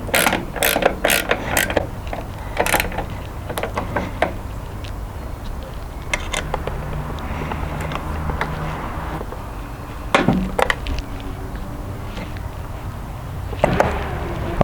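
Ratchet clicking in short bursts as light mount bolts are tightened down, sharp near ticks spaced irregularly with quiet pauses between, no voices.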